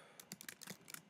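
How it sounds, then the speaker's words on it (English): Quick, close keystrokes tap out on a computer keyboard in a soft, irregular burst of light clicks. "I'm just typing this for now."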